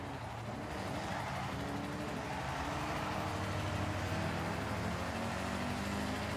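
A car engine drones steadily in the video game Forza Horizon 6, a thin, toy-like tone with rising and shifting pitch as the car accelerates through gears, loud and continuous.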